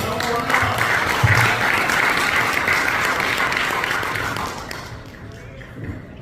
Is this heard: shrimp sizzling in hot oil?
no